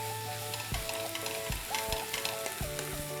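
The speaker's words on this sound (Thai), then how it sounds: "ใส่เนยลงในกระทะครับผม นำแอปเปิลที่เราขูดไว้นะครับ ลงไปผัดครับ" Grated apple is stir-fried in butter in a pan. A steady sizzle runs under intermittent stirring scrapes and clinks, while soft background music with sustained tones plays throughout and no one speaks.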